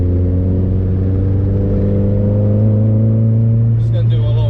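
Stock Mazda Miata circling the track at Lime Rock, its engine a loud continuous drone of strong low harmonics that rise slightly in pitch, with a brief higher sound near the end.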